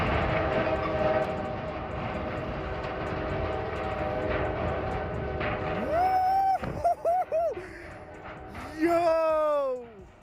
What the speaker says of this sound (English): Nothing other than a speeding train.